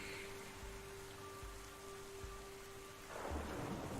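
In the video game The Swords of Ditto, a low rumble of thunder rolls beneath steady rain, which swells into a heavier downpour near the end; a faint electronic tone hums throughout.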